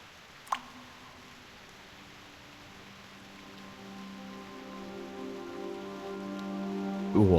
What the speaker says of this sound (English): Go ahead and touch the raindrops.